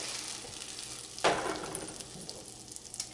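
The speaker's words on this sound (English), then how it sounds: "now I'm going to stir that together" A utensil scrapes and stirs through Persian peach stew in a pot, with a sizzling hiss and a sharp scraping burst partway through.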